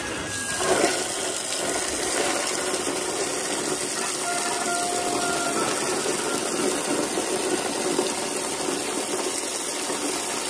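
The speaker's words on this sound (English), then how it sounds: "Get the hot water out of the line." Steady rushing water pours continuously at close range from a hose line on a farm, a broad even hiss with no pauses.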